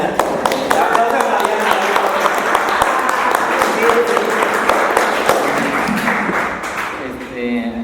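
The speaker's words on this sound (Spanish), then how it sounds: "Un aplauso a Mariana" Audience clapping for Mariana at a talk on fandom studies, a loud burst of hand claps with distinct individual claps standing out, under voices talking, tapering off at the end.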